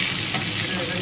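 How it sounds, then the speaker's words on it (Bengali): Fish frying in a pan gives a loud, dense, continuous sizzle that fills the whole second, close and steady with no voices over it. "মাছ ভাজা হচ্ছে হোক"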